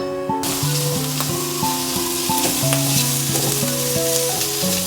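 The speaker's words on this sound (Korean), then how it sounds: "햄을 볶아줍니다" Ham being stir-fried in a pan, a steady, close, continuous sizzle with occasional light taps and scrapes of a utensil, loud and even throughout without any talking.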